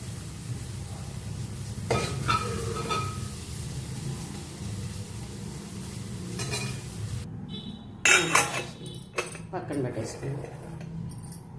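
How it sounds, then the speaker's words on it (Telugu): Amaranth fry is transferred into a serving bowl, with scattered light clinks and scrapes of a spoon against the dishes. A louder clatter comes near the end, over a steady background hum and occasional talk. "ఇంకా దీన్ని సర్వింగ్ బౌల్లోకి తీసేసుకున్నాం తోటకూరని"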